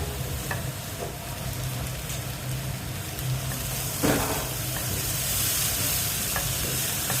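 Jackfruit pieces sautéing in a pan over a flame set a little above low, giving a steady, close sizzle with occasional scraping stirs throughout, no voices.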